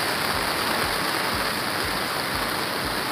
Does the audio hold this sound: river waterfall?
yes